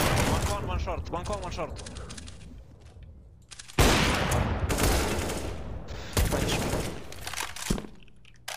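Gunfire in Counter-Strike: bursts of rapid automatic shots and sharp cracks come in several loud clusters, with players talking over the shooting.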